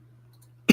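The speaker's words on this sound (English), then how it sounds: "I got a cough." A single short cough bursts out at the end after near silence, close and fairly quiet, from a person.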